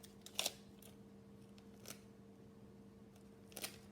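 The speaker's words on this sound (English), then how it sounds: "I'm just gonna cut the tape off" A few faint, crisp snips of scissors cutting tape in a quiet room, three short clusters spaced apart over a low hum.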